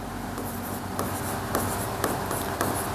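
Chalk scratching on a classroom board as a teacher writes during a Class 9 maths lesson on congruent triangles, a steady scratchy rubbing with a few sharper taps of the chalk, close and alone.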